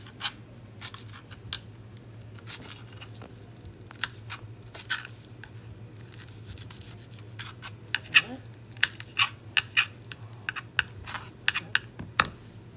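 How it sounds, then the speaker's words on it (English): A knife chops fresh cilantro on a cutting board for pico de gallo, giving a run of crisp, close taps that grow sharper and quicker toward the end, over a steady low hum with faint talk. "I'm gonna cut this up here."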